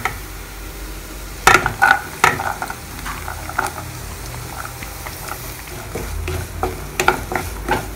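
Carrots fry in a pan with ginger and garlic, a soft steady sizzle with a few loud clattering bursts of stirring near the start and again toward the end, close and without talk.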